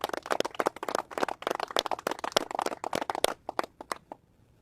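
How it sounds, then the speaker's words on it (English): An audience claps at a political press conference, dense fast applause from many hands that carries on for several seconds before thinning out and stopping. "So can we give them a round of applause too, please?"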